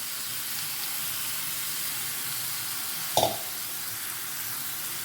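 Squid dropped into fried spice masala gives a steady, even hiss of sizzling oil, broken by one brief clatter partway through.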